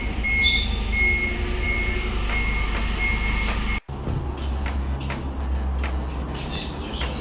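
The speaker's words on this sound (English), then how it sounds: "So I heard a forklift moving, so let's see what's going on." A forklift's reversing alarm beeps steadily in a loud, repeating pattern over a low engine drone, then cuts out abruptly and leaves a rumbling motor with scattered clanks nearby.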